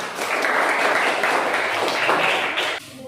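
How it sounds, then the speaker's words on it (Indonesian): Students in a classroom applaud a presenting group with a loud, dense burst of clapping close by. It holds for nearly three seconds, then stops abruptly. "Oke, berikan tepuk tangan kepada kelompok 1."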